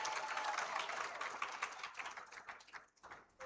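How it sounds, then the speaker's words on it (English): An audience at a child rights symposium in Uganda applauds, a dense wash of clapping that is fairly faint and distant, strongest at first and then thinning into scattered claps. "You do not stop clapping until he arrives up here."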